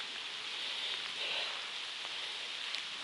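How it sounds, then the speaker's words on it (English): Rain falling on a forest trail, a steady wash of fine drops pattering on leaves and ground with occasional louder splashes, constant and close with no voices. "It looks like it's starting to rain again"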